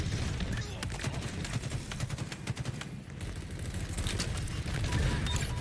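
Bursts of gunfire ring out in a Halo Big Team Battle match, rapid clattering shots coming in clusters over a rumbling low background, with brief pauses between volleys.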